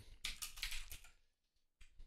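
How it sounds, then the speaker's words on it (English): Commands typed on a computer keyboard in a circuit simulator make a quick, close run of soft key clicks, a short pause, then a few more taps. "as I type these commands in, it gives me syntax hint underneath where I'm typing"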